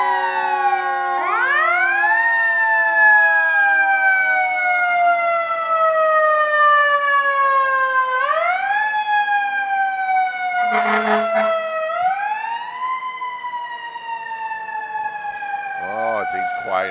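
Fire truck sirens wail in an Independence Day parade, loud and close, with repeated rising and falling sweeps, a brief horn blast in the middle and crowd voices faintly underneath.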